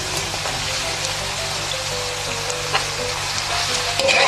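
Carrots and softened onions fry steadily in oil for Uzbek plov, a continuous close crackling sizzle with faint stirring and small pops, no talking.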